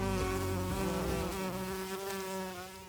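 A small bumblebee buzzes steadily and close by, a loud continuous droning hum with a slight shift in pitch throughout.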